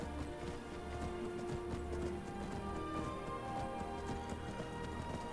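Steady clip-clop of horse hooves at a trot in modded Skyrim, close and continuous, over a faint low ambient hum.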